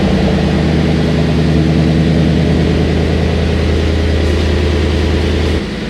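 A Lexus GS F fitted with an APEXi midpipe exhaust idles close by, a loud, steady low burble with a deep drone that drops off abruptly just before the end.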